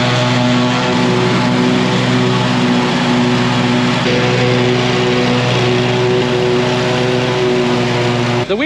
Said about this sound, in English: we wanted to bring the lawnmower over and get this mowed off really quickly